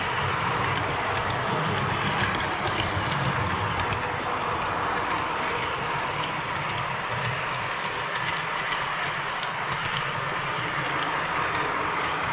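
An OVRTrains model train running along its track on a layout, giving a continuous rolling rumble with faint rhythmic clicking from the wheels, steady and near throughout.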